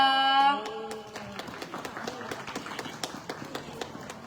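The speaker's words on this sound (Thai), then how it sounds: "ขอเสียงปรบมือให้กะเหรี่ยงคอยาวด้วยนะคะ" Audience claps for long-neck Karen performers at a temple celebration, following a brief voice at the start; the applause is scattered and moderately loud, then thins out.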